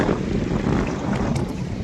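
Steady wind gusting outdoors under an overcast, stormy sky, a continuous broadband roar buffeting the microphone with no pauses or voices.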